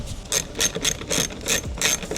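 A 10 mm ratchet loosening taillight bolts on a 2014-2017 Infiniti Q50 clicks in a quick, close series of short ratcheting bursts.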